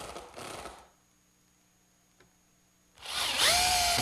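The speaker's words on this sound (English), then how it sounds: "I'm just bolting them together with some 6-inch lag screws" A power driver sinks 6-inch lag screws into wooden gate posts, with a short whirring burst, a quiet pause, then a louder, rising, straining drive close by, no one speaking.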